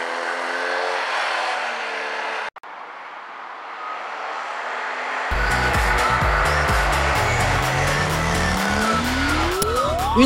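Race car on a test track: a steady engine drone, then a louder close pass with the engine revving and climbing in pitch, and tire noise mixed in.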